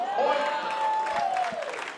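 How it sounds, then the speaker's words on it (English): Pickleball fans in an indoor arena at the Las Vegas Pickleball Cup applauding a point, a dense wash of clapping and crowd noise under a sustained tonal sound. "That one gets a round of applause from the fans in the house."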